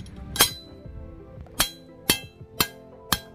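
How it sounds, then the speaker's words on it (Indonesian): Five sharp hammer blows ring out one after another at uneven intervals, each a bright metallic clink, as a hole is punched through material. The strikes are close and stand alone with no talk. "Oke, kita langsung palu seperti ini."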